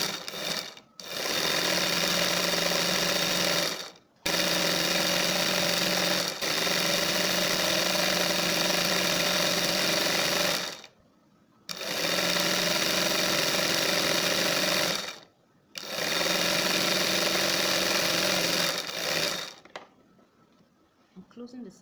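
A sewing machine stitches the side seams of a kaftan dress in four long sustained runs with short pauses between, a loud, close, even mechanical whir and rattle.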